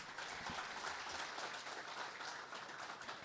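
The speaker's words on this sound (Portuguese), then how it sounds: "Pode aplaudir esse Deus." Congregation applauding during a church service, a dense, steady wash of many hands clapping at moderate distance that continues evenly throughout.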